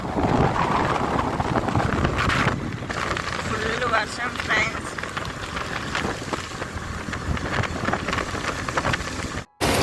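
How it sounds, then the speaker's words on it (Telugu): Heavy rain pours during flooding while travellers on a vehicle are caught out: a dense, loud, continuous patter of rain with wind buffeting the microphone and voices talking underneath. "వర్షం పడుతుంది"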